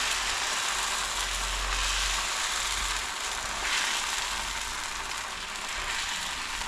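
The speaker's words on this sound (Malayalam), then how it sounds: "ദോശക്കല്ലിൽ ഒഴിക്കാം." Beetroot dosa batter sizzles on a hot dosa griddle, a steady, soft hiss of frying that runs without pause and without talk.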